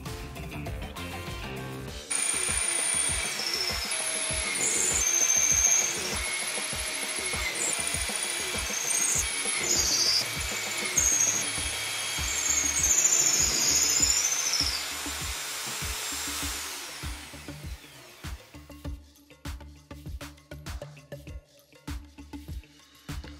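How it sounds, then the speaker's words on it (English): A power drill whines steadily for a long stretch while boring through-holes in wood, then winds down into scattered knocks and clatter. "I got to work drilling all the through holes I needed."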